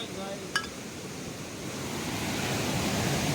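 Sea waves wash at Tajpur beach during the monsoon, a broad steady roar of surf that swells slightly louder toward the end, with a brief sharp knock early on and no talk.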